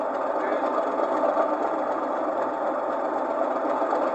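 Compressor sound from DCC sound decoder on a Heljan O gauge Class 37 diesel locomotive model, a steady droning mechanical hum with slight pulsing texture, continuous and fairly even throughout.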